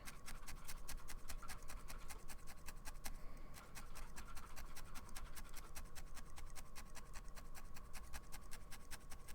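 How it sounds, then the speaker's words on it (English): Rapid, steady clicking of keys on a computer keyboard runs throughout, faint and continuous over a low background hiss. "Jesus Christ, what are you typing?"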